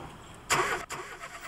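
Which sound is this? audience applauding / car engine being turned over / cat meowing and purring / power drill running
car engine being turned over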